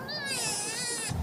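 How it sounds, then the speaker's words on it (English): A rescued baby sea otter cub in distress gives a single high, wavering cry lasting about a second, loud and close. "it's the sound of the distressed sea otter cub who was rescued"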